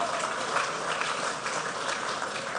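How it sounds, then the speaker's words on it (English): An audience gives a round of applause for WNBL MVP Liz Cambage at an event, a steady broadband clatter of many hands clapping, moderately distant and fairly soft, continuing evenly without voices. "A round of applause for that one."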